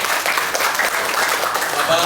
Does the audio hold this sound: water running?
no